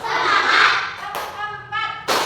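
A few sharp hand claps strike in a loose rhythm during a classroom clapping game, with a brief pause between bursts and faint voices underneath.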